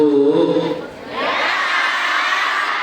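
Cheering crowd with children's shouts and clapping in a mosque gathering after an ustaz's storytelling talk, rising to a loud sustained roar after a brief moment of voices.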